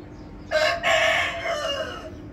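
A single Aseel rooster crows once, loud and close, a drawn-out raspy call lasting about two seconds.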